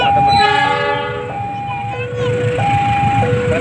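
A train horn sounds in repeated two-tone blasts over the rumble of a passing train, loud and close.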